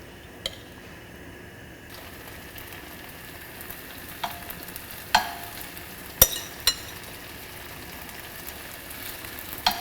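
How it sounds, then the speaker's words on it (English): Tofu frying in a very hot pan, laid in an even layer: a faint steady sizzle runs throughout, broken by a few sharp clicks and spits from the pan, with no talking. "now I'm just going to put it into this pan, which is going to be pretty hot, in a nice even layer"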